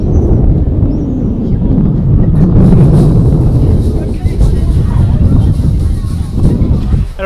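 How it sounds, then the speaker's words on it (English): Strong wind buffets the microphone at the top of the Leaning Tower of Pisa, a loud continuous roar with low rumbling gusts throughout. "It's a little windy up here"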